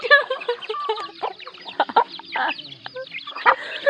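Several chickens cluck close by in a quick, uneven run of short clucks and squawky notes, loud and alone for the whole few seconds.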